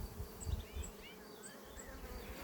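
Honey bees buzzing around an experimental natural-style hive shaped like a tree hollow, a steady close insect drone with a few brief louder passes and no voices.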